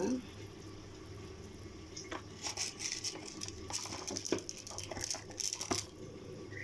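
Mustard seeds spluttering and popping in hot oil with cumin and urad dal in a covered pan, a soft, steady crackle punctuated by brief sharper pops, fairly quiet and close.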